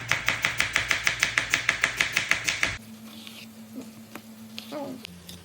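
Onion, tomato and green chillies for Kozhikode biryani masala being chopped on a board, a fast, even run of sharp knife taps that stops midway, leaving quieter kitchen rustling and a faint low hum.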